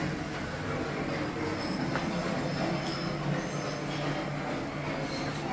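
Recorded train sound effects play inside the B&O Railroad Station Museum in Ellicott City, a steady low rumble with rolling wheel noise and faint squeal, moderately quiet and continuous with no talk.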